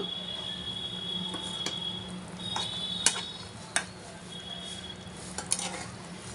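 Hilsa fish in yogurt sizzles in a frying pan while a utensil turns it over, giving a steady frying hiss broken by a few sharp metallic clicks and scrapes, close up with no speech.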